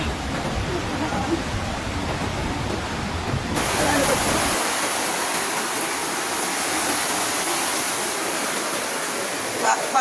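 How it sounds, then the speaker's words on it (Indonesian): The flooded Aek Doras river overflows in Sibolga, Indonesia, during heavy rain, a loud, continuous roar of rushing water. It keeps a steady, broad hiss throughout, and its tone shifts abruptly partway through. "Sungai meluap, banjir kembali menerjang Sibolga dan Tapanuli Tengah."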